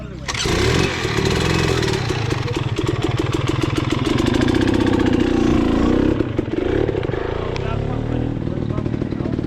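A 2024 Husqvarna TE250 dirt bike engine on California singletrack, a loud, close, continuous two-stroke drone with rapid rhythmic pulsing and surges in revs, a voice briefly audible over it.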